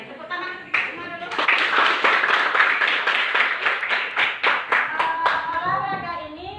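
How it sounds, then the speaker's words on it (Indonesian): A class claps hands together in a burst of brisk, loud clapping that swells, holds, then tapers off into a few scattered claps, with voices mixed in near the end. "Tepuk tangan semua dulu."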